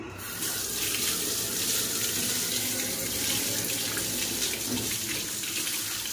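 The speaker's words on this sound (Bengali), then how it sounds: "চলো হাতটা ধুয়ে নিই, আমার সামনেই রয়েছে বেসিন" Tap water runs steadily into a sink basin while someone washes their hands, a close, continuous splashing with no talk.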